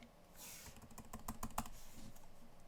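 A few crisp key presses on a computer keyboard while working in Photoshop, short close clicks grouped near the middle over a faint room hum, with no talking.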